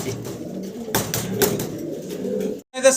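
Pigeons, including a pair of large deshi birds at a Bangladeshi market, coo in soft low murmurs amid a busy background of rustling and shuffling, with brief sharp knocks and a short high chirp near the end.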